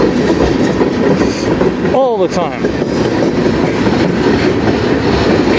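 A CN freight train rolls past close by with a steady clickety-clack of wheels over rail joints and a brief squeal midway, while a voice speaks a few words over the rumble.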